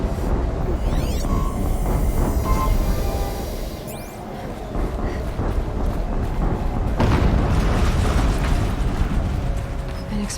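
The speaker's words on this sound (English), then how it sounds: "An explosion." Rumbling explosions go off in the action game Horizon Zero Dawn, loud and broadband, with a sustained booming roar across the clip and a fresh surge near the end, some swooping effects above.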